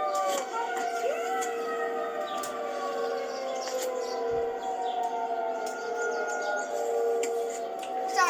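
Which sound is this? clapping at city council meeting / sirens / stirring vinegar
sirens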